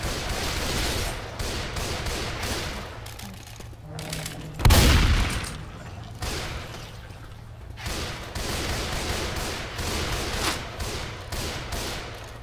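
In Left 4 Dead 2, gunfire rattles in scattered bursts for twelve seconds, with one heavy booming blast near the middle and quieter shots before and after.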